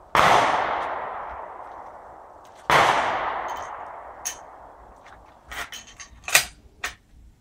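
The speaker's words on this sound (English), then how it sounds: "This is a 50 cal. We're going to shoot this one." Two heavy .50 BMG rifle shots boom close by a few seconds apart, each with a long decaying echo, followed by faint clinks and small handling sounds.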